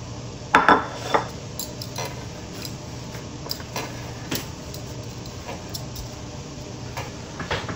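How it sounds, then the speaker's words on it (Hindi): Potato snack mixture is mashed and mixed on a kitchen counter, giving a few loud knocks and clatters early on, then quieter scattered taps and scraping over a steady background hum. "इसको हम काउंटर पे डाल लेंगे, यहाँ पे अच्छी तरह हम इसको मैश कर लेंगे और मिक्स कर लेंगे"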